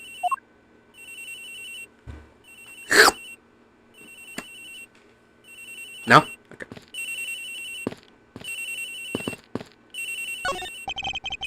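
A phone rings repeatedly in the Ace Attorney Investigations video game, its bursts of electronic trilling sounding at a steady rhythm, broken by brief game sound effects while a person talks between the rings.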